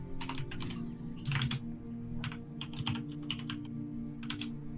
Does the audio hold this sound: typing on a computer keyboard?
yes